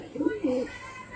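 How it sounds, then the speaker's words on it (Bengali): Andhra high-flying pigeons make two short low coos near the mic, a soft throaty rumble within a second, under a speaking voice. "টোটাল আন্ধ্রা পায়রা, আমার সরু বগের মতন।"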